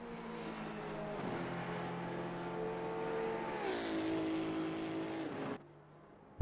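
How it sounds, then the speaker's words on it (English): A Maserati GT2 race car engine in a racing video game at Suzuka Circuit, a steady high-pitched whine that climbs and drops with a gear change, then cuts off abruptly; moderately loud, no talk. "I must say that Maserati sounds very nice though."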